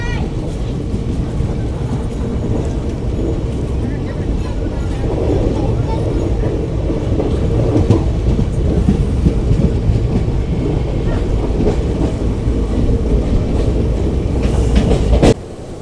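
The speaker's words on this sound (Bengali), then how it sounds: "ট্রেন এখন নিউ ফারাক্কা জংশন ছেড়ে তার গন্তব্যের পরবর্তী স্টেশন মালদা টাউনের দিকে এগোচ্ছে" Teesta Torsa Express train pulling away from New Farakka Junction toward Malda Town on a foggy night, a steady loud rumble of wheels and carriage noise throughout, with rhythmic track clatter and a brief sharper knock near the end.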